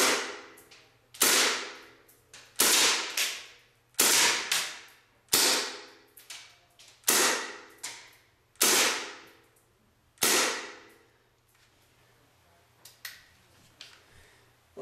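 Elite Force H&K MP7 airsoft submachine gun firing shots one at a time, about eight sharp loud cracks spaced roughly a second and a half apart, each trailing off quickly, followed by quiet with a few faint clicks.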